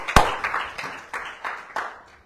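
A church congregation claps together in a steady rhythm, roughly three claps per second, with one sharp loud clap at the start and the rest even and moderately close, no talking over it.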